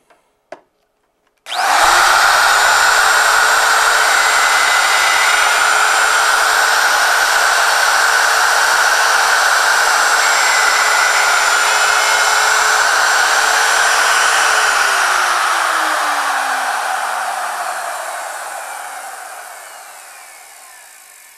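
A handheld router cutting dovetails in 3/4-inch stock on a Peachtree dovetail jig: a few faint clicks, then a loud, steady high whine that runs for about thirteen seconds before spinning down slowly.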